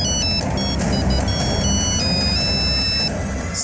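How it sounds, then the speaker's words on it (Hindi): An electronic phone ringtone from an incoming ransom call in a crime drama rings steadily throughout, with repeated high melodic tones over a dense, loud background of music and noise. "और अगली सुबह मेहुल की फिरौती का एक कॉल आया।"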